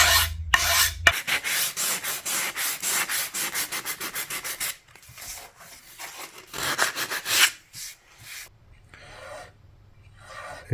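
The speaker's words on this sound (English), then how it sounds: "And I'm just going to use my scraper." A scraper works a ding out of the body of a Drake Custom M5 five-string bass guitar, making rapid, rhythmic rasping strokes in close bursts separated by brief pauses.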